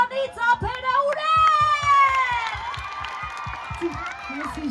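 Concert audience clapping for a singer, dense applause under a prominent sung or shouted voice, with crowd noise and a few cheers.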